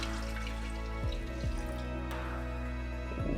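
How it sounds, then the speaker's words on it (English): Cockle cooking liquid is poured back into a saucepan, a continuous trickle and splash with a few dripping plops, heard up close without talk. "We're now going to pour our liquid"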